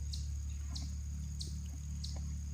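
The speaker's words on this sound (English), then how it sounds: "I hear a cardinal chirping like crazy" A cardinal gives four evenly spaced, short high chirps over a steady low hum near a chicken coop, the calls fairly faint and repeating about every two-thirds of a second.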